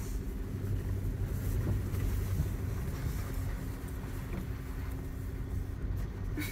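A vehicle with an adjusted transmission drives through snow on the way to an abandoned mine in British Columbia, giving a steady, loud engine and road drone with faint crunching and no talking.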